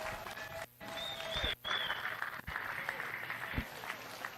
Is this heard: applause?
yes